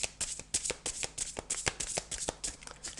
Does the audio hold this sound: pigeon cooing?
no